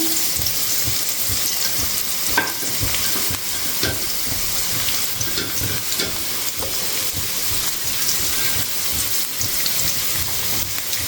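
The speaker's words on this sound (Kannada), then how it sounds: "ಅದು ಆಯಿಲು ಬಿಸಿ ಆಯಿತು. ಈಗ ಆನಿಯನ್ ಹಾಕ್ತೀನಿ." Onion dropped into hot oil in a pan, frying with a loud, steady sizzle and crackle that continues throughout, close by, with no speech.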